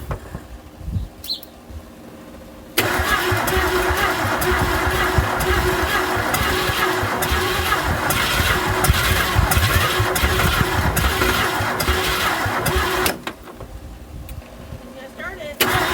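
A 1971 Ford Torino 500 engine cranks and catches, then runs with a steady, loud rumble for about ten seconds before cutting off abruptly, in an outdoor setting.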